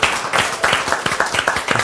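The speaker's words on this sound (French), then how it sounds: "Je pense qu'on peut applaudir pour vous." Clapping from a talk show studio audience, a dense patter of many hands at moderate loudness, steady throughout with slight swells.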